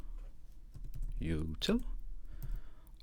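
Quick keystrokes tap on a Mac computer keyboard as a command is typed, soft and close, with a voice talking over part of it.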